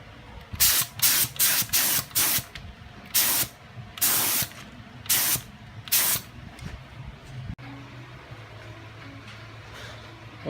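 An auto body spray gun lays paint coats in a string of short, loud hissing bursts separated by brief pauses, followed by quieter background sound once the spraying stops.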